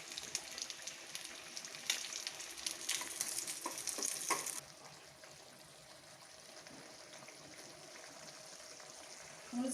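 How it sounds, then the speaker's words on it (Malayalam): Goat mutton fry cooks down uncovered in a pan, a soft sizzle broken by scraping stirs for the first half, then settling into a quieter, steady simmering crackle. "നമുക്ക് പതുക്കെ ഇളക്കി കൊടുത്ത് ഇരിക്കാം."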